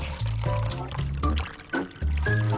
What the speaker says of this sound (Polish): Wystarczy wypełnić czajnik wodą do kreski.